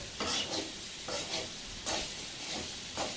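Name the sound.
stirring carrot and beans stir-fry in a pan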